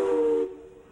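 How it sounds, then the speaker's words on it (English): Live steam from a stationary steam plant, heard as a loud, tonal whistling hiss that cuts off abruptly after half a second, leaving a faint lingering hum. "Now there is some live steam over there."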